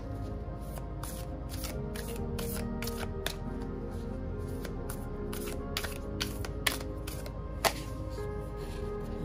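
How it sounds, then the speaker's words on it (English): Mystical shaman oracle cards being shuffled by hand in a tarot reading, a quiet run of crisp riffling snaps and flicks in irregular bursts over a soft background hum, with no talking. "I'm going to draw a mystical shaman card"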